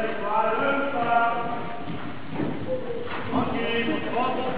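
Horse hooves clip-clop on the ground during show jumping training at Eperon de Nancy, a steady rhythmic beat under a trainer's voice that speaks intermittently over it.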